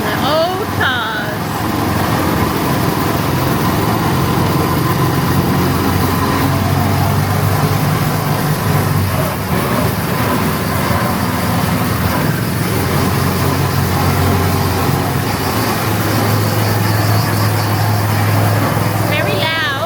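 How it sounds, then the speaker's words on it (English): Engines of the old cars ride at Dreamworld theme park on the Gold Coast, a loud continuous low rumble and idle drone heard close by throughout, with people talking faintly over it. "We are off on the old cars."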